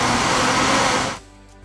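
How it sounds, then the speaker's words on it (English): An average commercial blender whirs loudly and steadily for about a second before cutting off abruptly, leaving a faint low hum. "The average commercial blender,"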